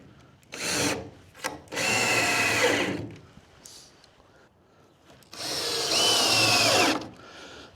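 Power drill driving screws into a wood rear wall of a tiny home truck build, countersinking them; three loud, close bursts of whirring, each a second or more long, separated by quiet handling noises.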